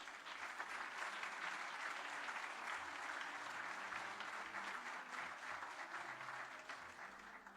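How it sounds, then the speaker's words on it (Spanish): A ceremony audience at La Moneda palace gives Nobel laureate Mario Vargas Llosa sustained applause, a continuous, even roar of many hands heard from some distance and fairly faint overall. "para quien pido un fuerte aplauso"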